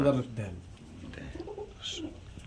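Pigeons coo softly at a pigeon seller's, the low, brief calls mixed under a man's close, continuous talking.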